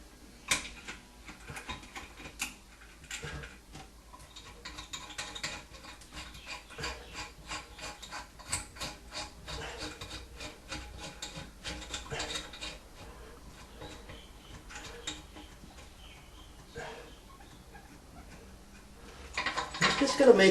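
Bolts being snugged down while mounting a toilet tank onto its bowl, with close, quiet ratcheting and metallic clicking in quick irregular bursts across the whole stretch, ending in a louder rattle.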